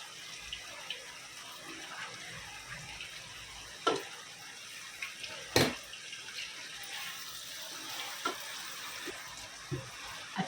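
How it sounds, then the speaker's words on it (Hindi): Mutton frying in oil with ginger and garlic for pulao, a soft continuous sizzle with scattered faint pops and a few sharper spoon taps against the pot. "अभी गोश्त को इसके अंदर अच्छे से फ्राई करेंगे।"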